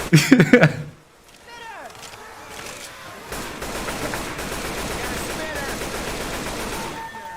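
Gunfire in the zombie co-op shooter Left 4 Dead 2, a loud burst of shots at the start followed by continuous crackling rapid fire and clatter, with people talking over it.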